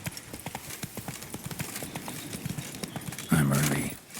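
Roach, the horse in The Witcher 3, gallops at a steady, rhythmic clip-clop of hooves, with a short bright whinny near the end.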